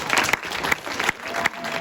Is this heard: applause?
yes